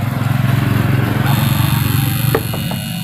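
Honda Vario 125 scooter with an old battery and a delayed start, its small engine puttering in a fast, steady, close idle, with a couple of sharp clicks near the end.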